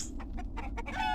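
A chicken in Arx Fatalis clucks in a quick run of five or six short choppy notes, close and clear over a low ambient hum, ending in a drawn-out squawk.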